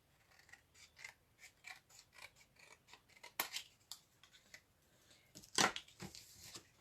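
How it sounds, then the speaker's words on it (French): Scissors snip through a folded sheet of card, cutting both layers at once for a flower-pot shape, a steady run of close, crisp cuts with a few louder snaps near the end. "on garde le pli et on coupe en gardant les deux épaisseurs."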